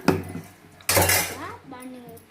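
A spoon knocks and scrapes in a bowl as kuzhi paniyaram batter is mixed with onion and chana dal, with two sharp clinks, one loud, followed by softer stirring.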